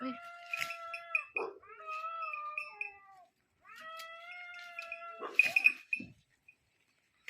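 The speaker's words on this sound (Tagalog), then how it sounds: "Nag-away yung mga pusa." Cats yowl and caterwaul at each other in long, wavering cries, ending in a sharp, harsh screech and hiss, close and fairly loud.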